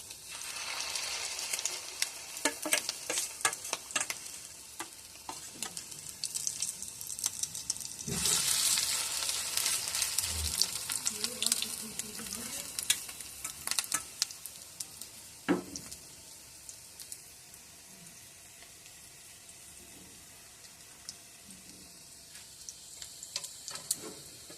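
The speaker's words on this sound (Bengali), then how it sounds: "এবার এটা ভাজা হোক এক পিঠ।" Fish roe fritters fry in hot oil with a quiet, continuous sizzle, swelling briefly louder midway, broken by occasional scraping and tapping from a spatula.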